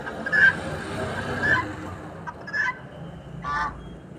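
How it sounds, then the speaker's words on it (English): Large swans give several loud honking calls spaced about a second apart, moderately near, over a low background hum. "Big swans are making a loud"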